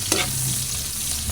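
Garlic and onion sauté in a hot pan for papaitan, a steady sizzle of frying with a scrape of stirring near the start; close and continuous, no talking.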